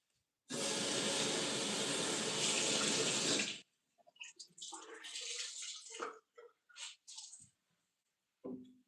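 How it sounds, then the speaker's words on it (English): Hot water gushes loudly from a tap for about three seconds to wet a cloth, then stops abruptly, followed by soft wet squishing and wringing sounds close by. "So now I shall wet this down with some really hot water again."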